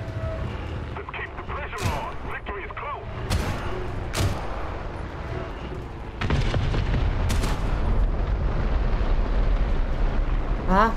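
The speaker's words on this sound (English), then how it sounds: "Artillery going off" Artillery fire in War Thunder's tank combat: a series of sharp, distant booms and cracks scattered across the scene, with a heavier rumbling burst about halfway, and a voice talking over much of it.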